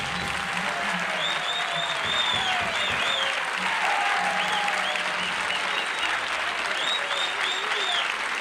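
Studio audience applauding on a 1972 Dick Cavett talk show, with steady, dense clapping throughout at a constant level and no break.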